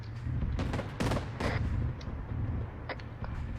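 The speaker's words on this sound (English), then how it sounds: "I'm blind firing." Rapid gunfire bursts in a military shooter game on the Chernarus map, loud repeated shots with heavy low rumble, several clustered blasts across the clip with no talking.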